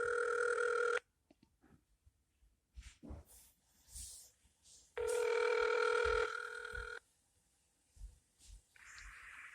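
Call-progress tones on an LG Cosmos Touch phone after dialing the *86 voicemail number: a loud steady tone burst, a pause with faint clicks, then a second long tone and a shorter higher tone, with no talking.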